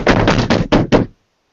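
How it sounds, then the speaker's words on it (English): Loud, heavy banging on a door: five forceful, closely spaced blows in a rapid run, close and booming, then sudden silence. "we heard a very loud banging on our door"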